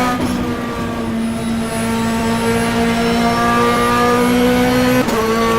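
GT2 race car in rFactor racing around Mount Panorama, its engine holding a loud, steady high drone with sustained harmonics for several seconds, a brief shift near the end.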